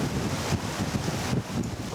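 Strengthening wind at sea buffets the microphone near a catamaran in French Polynesia, a continuous gusty roar with low rumbling surges and faint water wash, no voices.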